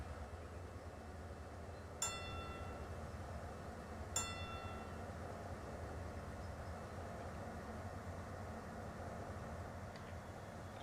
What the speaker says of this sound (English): at least the train is going through the correct signal on that line